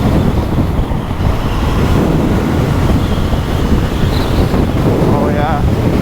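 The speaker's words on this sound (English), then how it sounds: "we have very strong gusts here" Strong wind gusts buffet the microphone while riding a 2023 Honda CB750 Hornet motorcycle, a constant loud roaring rumble through the whole stretch, with a voice briefly audible near the end.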